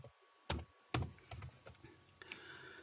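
Keys on a computer keyboard are tapped a handful of times in quick succession while a diskpart disk-listing command is entered, with crisp close clicks that fade into softer keystrokes.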